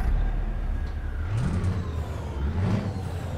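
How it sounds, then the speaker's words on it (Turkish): A truck engine runs on snowy roads with a close, rumbling drone and two brief rising revs. "Kontağımızı açalım abi. Evet. Aracımızı çalıştıralım."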